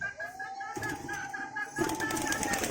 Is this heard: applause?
no